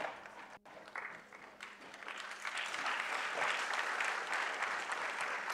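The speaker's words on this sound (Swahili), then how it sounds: "Makofi yasisite" A crowd at an award ceremony for a logistics and transport professionals' association launch breaks into applause, building from scattered claps into sustained, fairly distant clapping.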